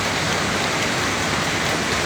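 Heavy rain pours steadily during flooding in Hubei, China, a loud, dense, continuous hiss with no pauses and no voices.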